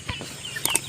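A backyard hen gives a few short, soft clucks close by, with faint rustling and ambient noise in between.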